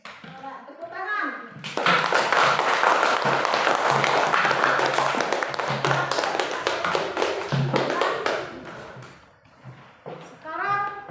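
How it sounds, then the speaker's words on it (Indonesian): Classroom applause from a group of children after a group presentation, a dense burst of clapping lasting several seconds with small voices mixed in before and after. "Tepuk tangan."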